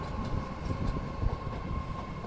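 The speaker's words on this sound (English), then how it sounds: "we got a freight train coming out here. An intermodal stacker." An eastbound Union Pacific intermodal stacker freight train rolls past a Richmond station, producing a steady, loud rumble with rail noise throughout and no talking.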